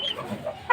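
Young gamefowl chicks peeping and clucking briefly, a few soft close chirps over a quiet background in a short burst.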